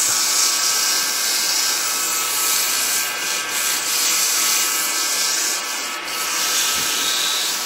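A wooden vase spinning on a lathe is sanded with finer-grit paper, giving a loud, steady, continuous abrasive hiss that runs the whole time with slight swells and no talking.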